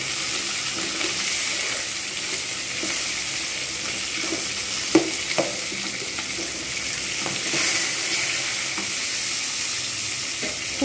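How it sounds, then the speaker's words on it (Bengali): Fish pieces for dahi shorshe pona fry in a pan with a steady, even sizzle broken by a few sharper crackles and spits, with no one talking. "মাছগুলোকে এক পিঠ করে ভালোভাবে ভেজে নিয়েছি, আরেক পিঠও ভেজে নেবো ভালো করে।"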